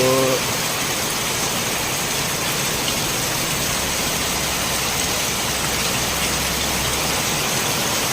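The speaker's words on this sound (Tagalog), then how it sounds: "Ngayon lang po bumuhos ang malakas na ulan dito sa Ilocos." Heavy rain pours down steadily in a rural area of Ilocos, a dense, continuous roar of water without a break, loud and close throughout, with a low engine-like rumble underneath.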